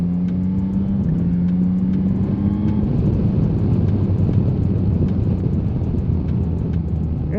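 A 2025 Yamaha Tracer 9 motorcycle with a newly fitted quickshifter and stock exhaust runs with a smooth, steady engine drone, its tone shifting once early on and then holding even and close.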